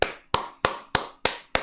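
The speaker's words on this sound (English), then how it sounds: "that's me appreciating and applauding Josh Giddey for everything he did for us in this series" Six sharp hand claps from a single person, spaced evenly about a third of a second apart, close and crisp with short decays and no other sound.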